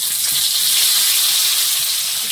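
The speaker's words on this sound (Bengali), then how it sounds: "তেলে 5 ফোড়ন, তেজপাতা," Five-spice seeds and a bay leaf fry in hot oil for a taro curry, giving a loud, close, continuous sizzling hiss with no pause.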